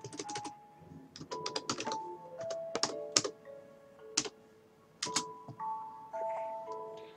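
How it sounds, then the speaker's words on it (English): Computer keyboard typing during a Minecraft superflat survival game comes in irregular bursts of sharp clicks, close and clear, with quiet pauses between flurries and no talk. "I'm really bad at typing."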